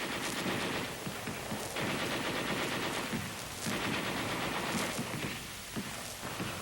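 Heavy machine guns firing in sustained bursts during a WWII US Army attack exercise, a dense, continuous rattle of rapid shots with a few brief gaps, loud and close throughout.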